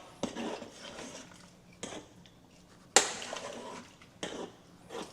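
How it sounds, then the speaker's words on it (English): A metal fork scrapes and clinks against a pot of rice in several separate strokes, sharp and close, with quiet pauses between them. "now I get my fork and I am gonna stir it"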